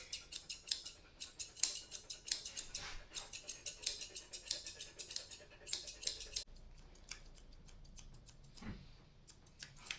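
Scissors snip rapidly and steadily through an Australian Labradoodle's coat during a full grooming trim, a close run of crisp metallic cuts that thins out toward the end.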